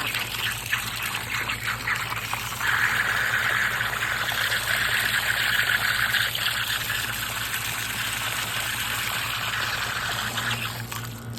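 Water pours steadily into a drinking dish outdoors in the evening, a continuous gushing trickle heard fairly close and alone for several seconds.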